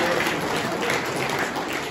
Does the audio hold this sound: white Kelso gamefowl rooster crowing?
no